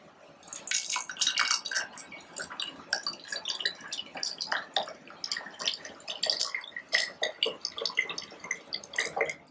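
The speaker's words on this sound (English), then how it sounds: "now I'm going to pour in the orange juice" Orange juice is poured into a lavender mimosa, giving a steady, close splashing and trickling with irregular drips over about ten seconds and no talking.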